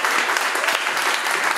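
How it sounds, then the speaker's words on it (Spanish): Concert audience applauding steadily, a dense wash of many hands clapping close and loud with no break. "Un aplauso, por favor, para Javier."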